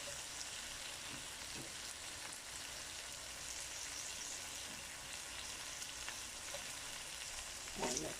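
Steady, faint sizzle of bacon and red peppers frying together in a pan for carbonara, a continuous hiss with occasional soft stir knocks and no talking.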